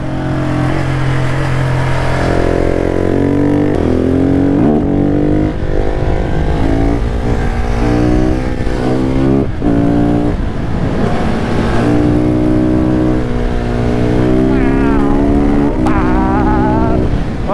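A KTM 690 SMC R supermoto motorcycle engine revving and accelerating through gears, loud and close, pitch climbing and dropping repeatedly.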